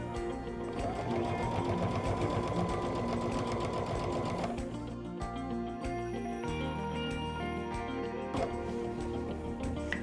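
A Baby Lock Altair sewing machine stitching through pillow fabric, running continuously with a dense rhythmic mechanical whir that shifts speed midway, close and steady, no voices heard.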